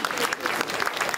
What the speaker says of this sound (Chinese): 那我们以最热烈的掌声欢迎他们。